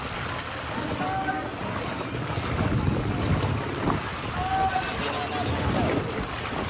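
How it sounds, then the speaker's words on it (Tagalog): A boat motoring through floodwater in Pampanga, Philippines, with engine rumble, wind buffeting the microphone and splashing, and people talking faintly in the background. "Kaya dumadami na rin yung mga bangka dito."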